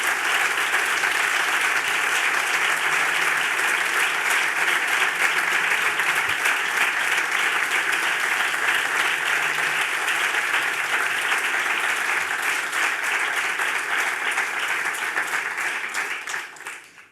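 Sustained audience applause at an awards gala for the candidates, dense and loud clapping from a large crowd filling the room without pause, then fading out at the very end.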